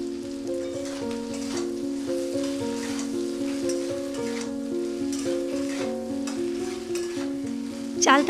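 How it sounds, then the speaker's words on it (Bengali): Elephant apple pieces being stirred in a hot pan with salt and black salt, a steady close sizzle with scraping stirs running throughout, no voices. "চালতাগুলো বেশ কিছুক্ষণ নাড়াচাড়া করে নিয়েছি।"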